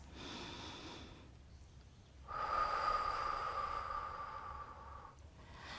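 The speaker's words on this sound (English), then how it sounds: "Deep breaths." Deep, slow breathing during a lying-down resistance band Pilates core and leg workout: two long, close breaths with a quiet pause between, soft and airy.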